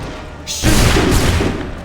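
A volley of musket gunfire erupts in the Assassin's Creed 3 game, a dense crackling burst that hits hard midway and rolls on as a sustained loud roar.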